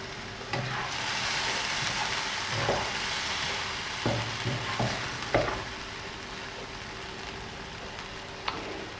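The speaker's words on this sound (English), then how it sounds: "I'm going to cover and let that simmer." Baby squid cooking with lemon juice in a covered pan give off a steady, moderately loud sizzle and simmer, broken by a few sharp clicks and clatters of a lid or utensil, with no talking.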